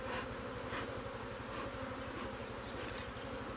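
Agitated honeybees swarm around an opened, previously abandoned hive in the Australian bush, their dense, high buzzing loud and close with individual bees whining past.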